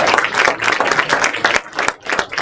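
Steady applause from a water resiliency forum audience, dense clapping continuing throughout at moderate loudness.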